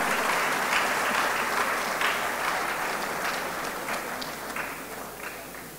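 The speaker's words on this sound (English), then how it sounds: "Round of applause, ladies and gentlemen." A conference crowd claps steadily for an introduced speaker, a dense even wash of hand claps that slowly tapers toward the end.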